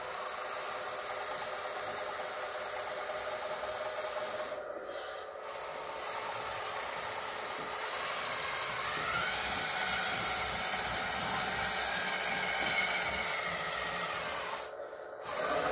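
A small RC dozer's electric motor runs steadily while the machine drives, giving a continuous high whine and hiss with two brief cutouts.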